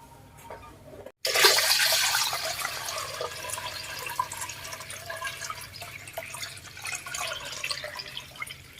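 Wild forest mushrooms are washed in water: steady splashing and rushing water with drips, starting abruptly after a brief silence and continuing at a moderate level.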